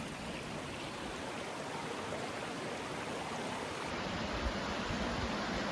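A shallow, rocky river beside a covered bridge in Shrewsbury, Vermont, rushes over many stones in a steady, soft, hissing wash of moving water that continues evenly without voices.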